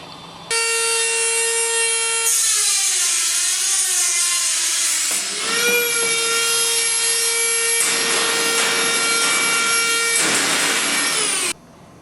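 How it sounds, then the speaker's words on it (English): A Dremel rotary tool cuts out a false bottom for a three-gallon brew-in-a-bag kettle, giving a loud, close, steady high-pitched motor whine for about eleven seconds, with the pitch sagging and recovering as the cut loads the bit. "used the Dremel to cut it out"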